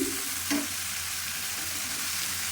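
Cabbage frying in oil with potatoes for a shrimp-and-cabbage ghonto sizzles steadily and densely in the pan. A brief scrape of a stirring spoon comes early on, close and without any talk.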